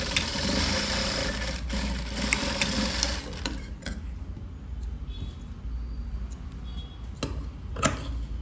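A sewing machine runs steadily through a blouse in a tailoring class, its fast whirring stitch loud and close for about three seconds before easing off into quieter intermittent ticks and brief bursts of stitching.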